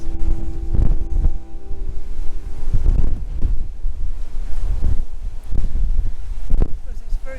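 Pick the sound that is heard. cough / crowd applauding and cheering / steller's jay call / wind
wind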